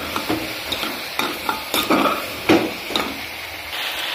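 Soybean chunks and vegetables being stirred and fried in a pan, with a steady sizzle broken by repeated scraping strokes of a spoon at an uneven rhythm, close and fairly loud, with no talking.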